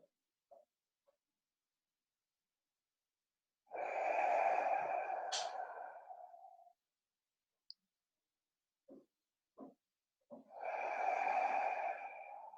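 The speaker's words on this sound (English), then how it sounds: "just take a few deep exhales" Two long, deep exhales during a relaxation exercise, each a breathy sigh lasting a few seconds, close and soft, separated by quiet with small clicks and short breaths.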